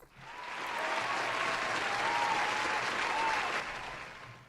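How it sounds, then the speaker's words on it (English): Audience applause at a women-in-nursing panel event, a steady wash of clapping that swells quickly, holds evenly for several seconds, then tapers off. "We're going to give her a round of applause."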